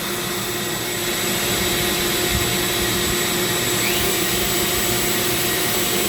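A Dremel rotary tool whines at high speed as it shapes the outside of a zebra wood ring, a loud, continuous, unbroken drone with no talking.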